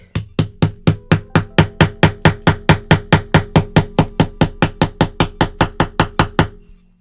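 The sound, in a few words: hammer and chisel striking a black rock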